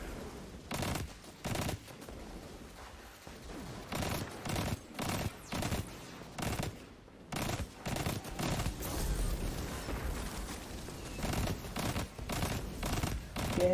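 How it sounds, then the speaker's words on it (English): Pulse rifle gunfire in a sci-fi shooter video game, repeated rapid bursts of automatic shots at a steady rhythm, loud and close against constant game background noise. "him with a pulse rifle a few times"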